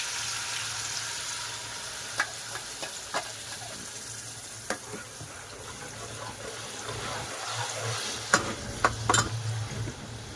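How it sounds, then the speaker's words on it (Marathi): Roasted tomatoes, with roasted coconut and onion, fry in hot oil, giving a soft continuous sizzle punctuated by occasional sharp spatters and stirring clinks, close and fairly quiet, with no speech. "टोमॅटो हे भाजून घेतले आणि आता आपण तेलात टाकूया"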